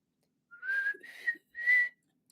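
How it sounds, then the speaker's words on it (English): A person whistles a short tune alone in three clear sustained phrases with brief gaps, close and fairly loud against silence. "I'm gonna whistle it anyway"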